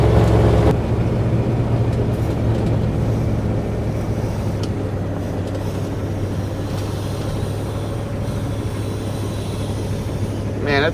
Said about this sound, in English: it's idling higher than it was before